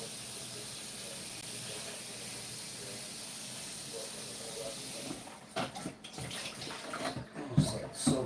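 Running water pours steadily from a tap while a Vitamix blender is rinsed, a broad continuous hiss that gives way to uneven splashing and clattering near the end.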